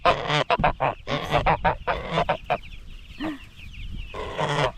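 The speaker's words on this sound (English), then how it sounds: "We brought our guard geese out." Guard geese brought out onto a pasture farm honk and cackle loudly in repeated close bursts, with a brief quieter gap partway through before the calls pick up again.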